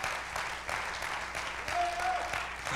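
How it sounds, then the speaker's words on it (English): A church congregation claps hands in praise, a dense, steady wash of applause from a large group that fills the room, with a brief tonal voice sound rising partway through. "if you're thankful, clap your hands and give God praise"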